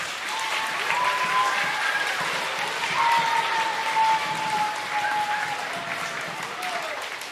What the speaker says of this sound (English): let's give a big round of applause to all the moms and dads who help us